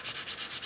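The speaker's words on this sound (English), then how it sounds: "The reason we use the water on it is to carry away our sanding" Repeated wet rubbing strokes of sandpaper against a painted guitar finish, a steady back-and-forth rhythm of about five passes, close and fairly soft.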